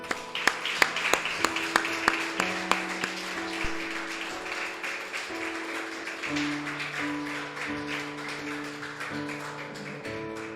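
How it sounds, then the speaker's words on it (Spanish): A church congregation claps during a service. A few sharp, separate claps at the start give way to softer, scattered clapping under sustained organ or keyboard tones, and the whole passage stays fairly faint. "Denle un aplauso al Señor."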